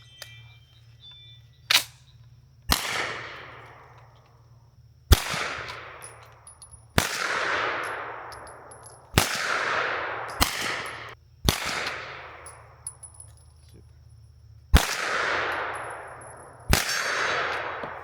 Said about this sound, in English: We're going to shoot side by side.